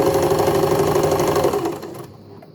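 An Empisal Dressmaker 270D sewing machine runs a zigzag stitch, a steady close mechanical whir with a fast rhythmic pulse that slows and stops near the end.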